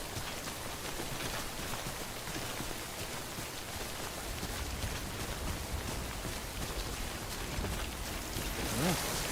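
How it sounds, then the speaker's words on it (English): Steady rain falls in a video game, a dense continuous hiss of drops on surfaces with no letup, joined near the end by a brief louder swell. "My cargo being affected by this rain kind of forces me to move forward"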